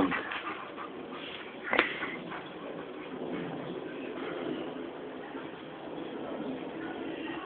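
A Bouvier dog whimpers softly indoors, making faint, drawn-out whines with one brief sharper yelp partway through, while a person murmurs gently nearby.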